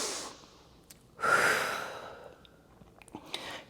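A long, audible exhale during a home Pilates class with a yoga block, following a faint earlier breath, then quiet with a few soft taps.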